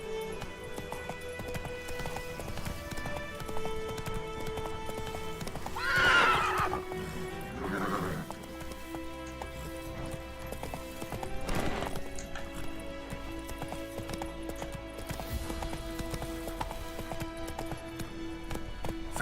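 A horse gallops steadily in The Witcher 3, its hoofbeats rhythmic and continuous, with a couple of clear neighs breaking through partway along.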